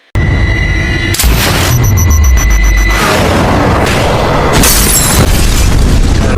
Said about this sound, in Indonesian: Dengan segera tembakan RPG melesat meledakkan kamar hotel persembunyian mereka.